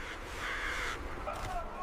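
Black ravens give a couple of harsh caws in quick succession at moderate distance over a low, steady background, brief and fairly faint.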